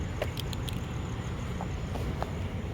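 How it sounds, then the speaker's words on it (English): A car approaching on a city street at night gives a steady low rumble with a few faint clicks and clinks over it, heard at a distance with no talk. "Oh, another car's coming."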